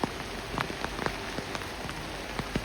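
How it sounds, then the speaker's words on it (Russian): Dense hail and rain pour down outdoors, with a steady close hiss of falling water punctuated by sharp, irregular clicks of hailstones striking nearby surfaces. "Боже, какой град густой. Смотрите, как он сыпется."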